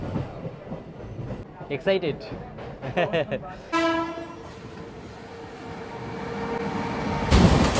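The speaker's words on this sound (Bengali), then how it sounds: "ট্রেন ছেড়ে দিল" A Howrah–Bardhaman local train pulls away, with a loud horn-like tonal blast and rumbling rail noise building as it departs, and a voice speaking briefly over it near the start.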